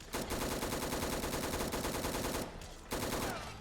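Rapid automatic fire from an IWI Tavor X95 rifle in Fallout 4, a loud sustained burst of shots, a brief pause, then another burst, with no voices.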